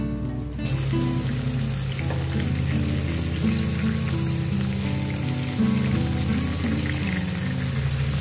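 Water is poured into a cooking pot holding washed rice and lentils for khichuri, a steady splashing rush with a faintly shifting tone as the pot fills. It runs unbroken for several seconds, with no voices.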